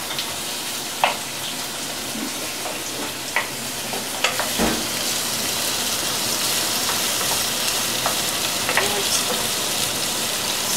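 Garlic, onions, tomatoes and green chilies frying in a pan, a steady close sizzle with occasional sharp clicks and stirring taps throughout.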